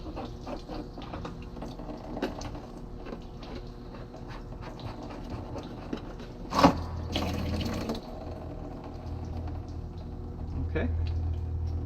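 Water draining from the low point drains of an RV, a steady splashing trickle and flow under outdoor background noise, with a brief sharper clatter midway; people talk at times.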